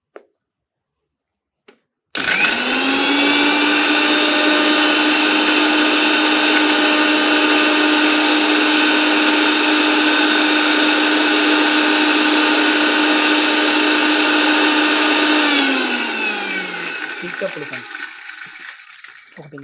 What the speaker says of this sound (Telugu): దీన్ని మిక్సీ పెట్టేసుకుందాం.